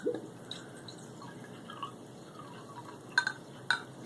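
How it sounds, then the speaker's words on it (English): Arizona Green Tea Mandarin being poured from its bottle into a glass, a faint trickling stream with a few clinking drips and a couple of sharper taps near the end. "Okay, so let's do the pour right now."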